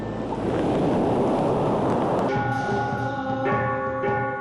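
Rough sea surf churning steadily with broadband wash and wind, loud throughout, with tonal music or chanting rising from the midpoint over the water noise.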